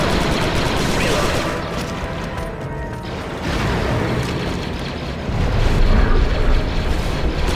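Grenade blast and ongoing combat noise in Star Wars Republic Commando on Geonosis, dense booms and clattering fire filling the space continuously, growing louder toward the end, with squad voices in the mix.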